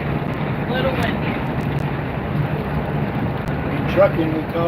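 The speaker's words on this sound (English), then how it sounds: "A little windy." Steady wind buffets a truck cab while driving along a mountain highway, a constant low rush with road rumble beneath, continuous and close with no clear breaks.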